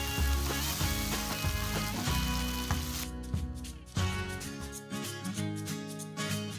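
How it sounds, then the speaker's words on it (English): Tomatoes sauté with browned garlic and salt in a pan, giving a steady, soft sizzle that runs the whole time under a continuous bed of music. "Just continue sauteing this until the tomatoes become mushy."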